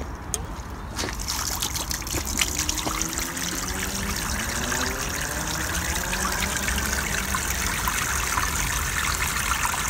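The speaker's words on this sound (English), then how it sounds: "The water's gonna go down the sides." Water streams steadily out of a pipe, a continuous close trickling and gushing flow that holds for the whole stretch, with faint voices in the background.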